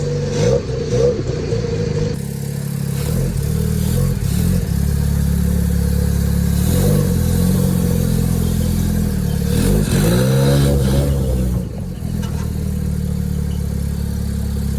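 A rotary-engine trike pulls hard on a ride, its loud, close engine rising and falling through throttle changes with a continuous buzzing drone throughout.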